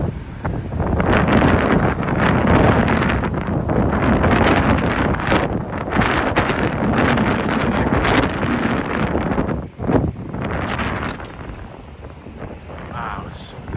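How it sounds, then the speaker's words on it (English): Strong wind buffets the microphone in a steady roar with gusts during a rush-hour walk in Harlem, New York City, while a voice talks over it throughout. "Wow, it's windy today."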